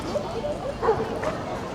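Dogs give faint, short yips and barks at the Yoyogi Park dog run in Tokyo, mixed into a background of people chatting nearby.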